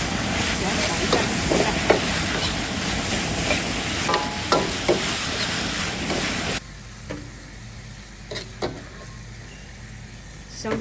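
Beef with cilantro, made from leg meat, stir-fried over high heat in a wok, giving a steady sizzling hiss with scraping stir strokes that drops to a quieter simmer partway through.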